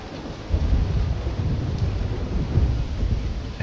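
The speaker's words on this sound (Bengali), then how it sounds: "আকাশে ঘন মেঘ ভিড় করে এসে জমছে, আর তারপরেই জমিয়ে বৃষ্টি।" Thunder rumbles low and steady beneath a dense wash of heavy rain in a rural village setting, the storm close and continuous with a slight swell in loudness partway through.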